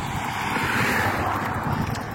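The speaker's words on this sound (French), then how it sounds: "Désolé, il y a un peu de vent, il s'est levé." Wind buffets an outdoor microphone at a construction site at a city entrance in Le Havre, Normandy, a loud, continuous rumbling roar with gusty swells and no speech.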